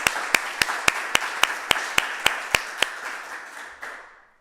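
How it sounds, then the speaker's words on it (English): A small group gives slow, evenly spaced claps for hosts Dave and Stephanie Weigel at the GOG in downtown Frederick during the 2020 DoGOOD-er Awards, about a dozen sharp claps in steady rhythm that then fade out. "we would also like to give a round of applause to our hosts, Dave and Stephanie Weigel"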